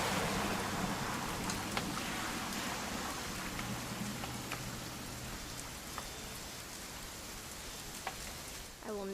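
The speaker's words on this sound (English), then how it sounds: "It's gonna rain the whole weekend, isn't it?" Rain falling in the video game What Remains of Edith Finch, a dense, close, steady patter with scattered individual drops ticking over a low rumble, carrying on without talk.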